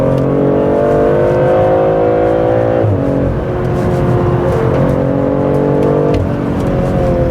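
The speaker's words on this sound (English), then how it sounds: "Hard on the brakes, tire squeaking, accelerating out now," A BMW 3-Series G20, either a 330i M Sport or an M340i with all-wheel drive, accelerates hard out of a corner. The engine drone rises steadily and sounds loud and close from inside the car, with no speech.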